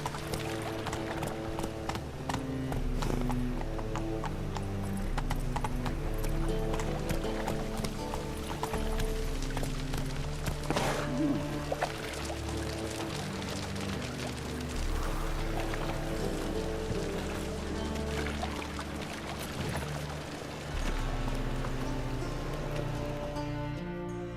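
Roach the horse trots in The Witcher 3, hooves clip-clopping in a steady rhythm throughout, carried under continuous music.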